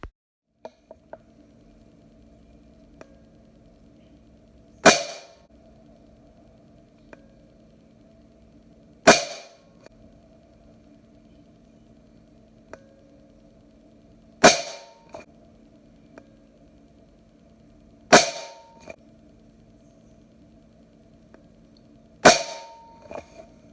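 Five sharp Benjamin Marauder air pistol shots firing Air Arms pellets at 30 yards, spaced about four seconds apart, each a crisp crack with a short decay over a low steady hum.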